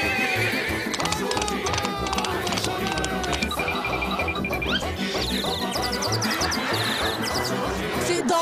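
A horse neighs and whinnies again and again while its hooves clip-clop steadily nearby. The sound is loud and busy throughout, with faint voices underneath.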